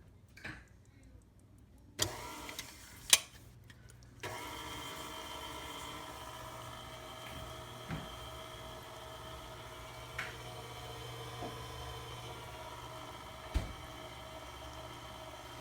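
An electric mixer beating banana nut bread batter at low to medium speed, starting after a few clicks and then running as a steady, even whir, with occasional faint knocks against the bowl.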